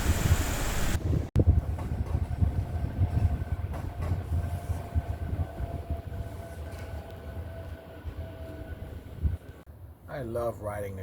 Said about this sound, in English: I love riding the train home.